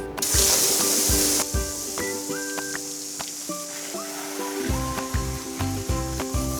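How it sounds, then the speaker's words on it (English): A hose sprays water over a yacht in a steady hiss that cuts out briefly, mixed with tonal squeaks and clatter nearby. "I spray down the whole boat first to get the loose dirt off"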